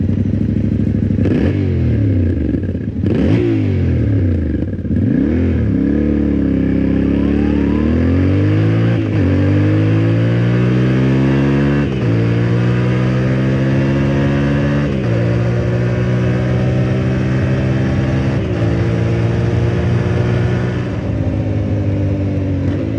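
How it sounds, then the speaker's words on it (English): A stock Yamaha Ténéré 700 motorcycle exhaust blipped and revved several times, throaty rises and falls in pitch, then settling into a steady rumbling hum, loud and close. "a great throaty sound when you blip the throttle and a pleasant hum of an exhaust note"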